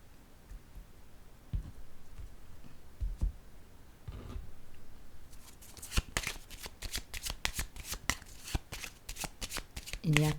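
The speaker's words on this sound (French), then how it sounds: "Je vais déposer une carte ici." Playing cards are handled and laid down during a card reading: soft, sparse rustles and taps at first, then a dense burst of rapid shuffling and snapping in the second half, close and fairly quiet.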